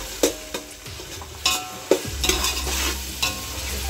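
Chili paste with coriander and curry leaves is stirred and sautéed in a pan for prawn rice, with a steady close sizzle broken by several sharp scraping strokes of a spoon, no voices.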